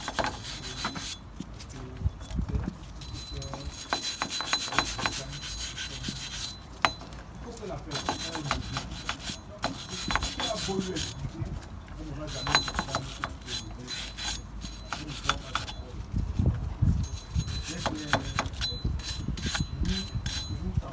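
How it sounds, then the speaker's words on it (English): Wire brush scrubbing the front brake hub of a 2004 Nissan Almera: continuous close, rhythmic scratchy rubbing strokes for about twenty seconds, with no talk over it. "I'm going to give this a wire brush to make it nice and smooth"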